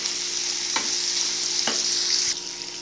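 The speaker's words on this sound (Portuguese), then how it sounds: "Então, a gente frita a cebola junto com a carne, né?" Onion frying with beef in a pan gives a steady bright sizzle throughout, punctuated by three sharp scrapes of a utensil stirring, with no voices.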